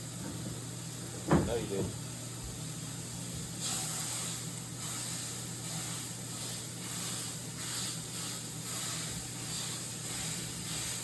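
Food sizzles in a hot cast iron pan with a steady, moderate hiss throughout, briefly interrupted by a clatter of utensils near the start, while a person speaks a few words.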